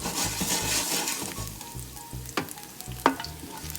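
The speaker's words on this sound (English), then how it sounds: "Once you come up to a good sizzle," Garlic crackles and sizzles in a hot pan, a dense continuous frying hiss punctuated by a few sharp pops and a utensil clink.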